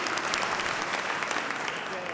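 A roomful of attendees at a realtors' district conference applauds briefly and evenly, a dense patter of many hands at moderate volume.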